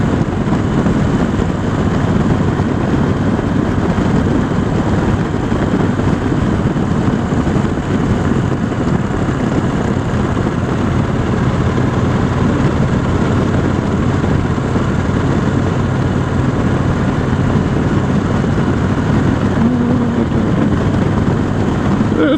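A motorcycle engine drones steadily and loudly throughout a demo test ride on twisty roads, with constant low rumble mixed with wind rush and no clear breaks.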